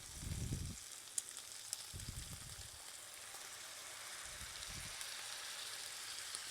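Minced meat and rice frying together in a single pan give a faint, steady sizzle, broken by a few soft low bumps.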